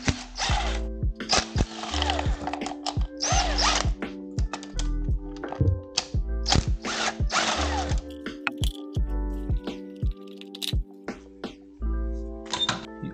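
An impact driver removing screws from a Triumph Trident 660 motorcycle, heard close up as short, loud, rapid bursts of hammering and whirring separated by pauses.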